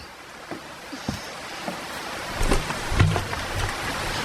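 Rain falls steadily, with thunder rumbling low in the background and a few louder gusts of rainfall building near the middle.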